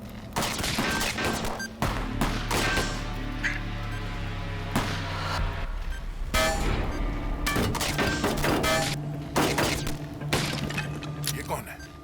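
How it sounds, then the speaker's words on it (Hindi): Shootout in a Hindi TV crime drama: rapid bursts of gunfire crack repeatedly over about twelve seconds in irregular clusters, loud and close, with dramatic music and people talking underneath. "कहां से गोली चला रहा?"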